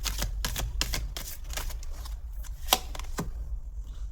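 Tarot cards are shuffled and drawn, giving a quick run of crisp, close slaps and riffles at an uneven pace that thins out near the end.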